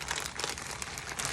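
Wick stickers being handled while making gel candles: a continuous close crinkling and rustling of paper and plastic backing, soft but steady throughout.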